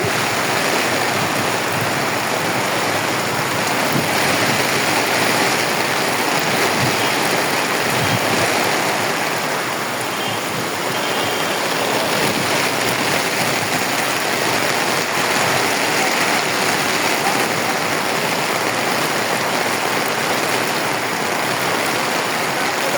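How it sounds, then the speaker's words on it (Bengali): Heavy rain pours steadily at Dhaka airport, a loud, dense, continuous hiss of falling water that fills the whole scene without pause, with no voices. "ঢাকা এয়ারপোর্ট এলাকায় অনেক প্রচুর পরিমাণ বৃষ্টি হচ্ছে।"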